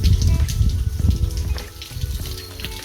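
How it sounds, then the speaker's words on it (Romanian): A waterfall at Oxentea in Moldova gives off a loud, steady rush of falling water, a dense continuous roar heard up close with no talk. "Însuși cascada."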